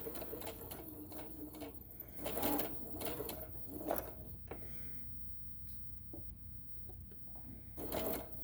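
A sewing machine stitches a tote bag in short, close bursts separated by pauses as the work stops at each pin, with faint soft cooing in the background.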